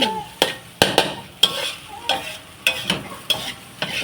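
Shrimp fried rice is stir-fried in a pan, with a rhythmic series of sharp spatula scrapes and tosses roughly every half second over a continuous close sizzle, no talking.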